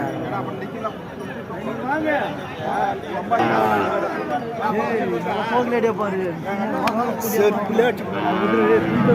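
Cattle moo repeatedly at a village livestock market in Thenpandhal, Tiruvannamalai district, where cows and bulls are traded; the lowing rises over steady crowd chatter and murmured talk throughout.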